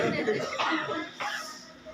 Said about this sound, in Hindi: हमको खांसी पता नहीं क्यों आ गई।